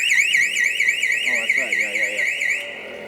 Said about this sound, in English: what you have is just an alarm off a screen door